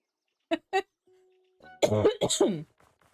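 A couple of short, sharp coughs up close, followed after a brief pause by a voice speaking.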